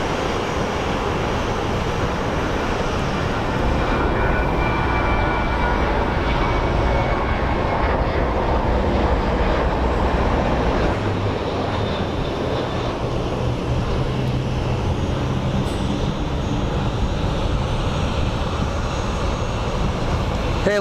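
A Southwest airliner in copper-blue livery climbs out of Phoenix Sky Harbor Airport toward Puerto Vallarta, a loud, sustained jet roar that holds steady and rumbles broadly for twenty seconds with no talking.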